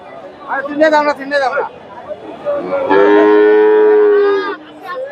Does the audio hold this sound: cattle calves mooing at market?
yes